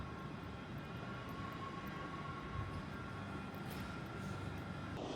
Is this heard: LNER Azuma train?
yes